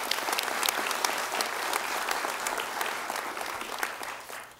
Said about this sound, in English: A big round of applause for Rachel Williams of Farmington